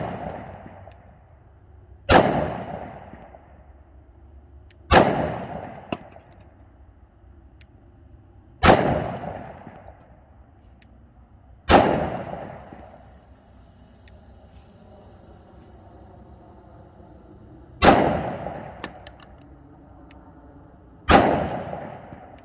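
An XDM Elite 3.8-inch 10mm pistol fires 150-grain Nosler jacketed hollow point rounds, six sharp, loud reports spaced a few seconds apart, each ringing off briefly outdoors.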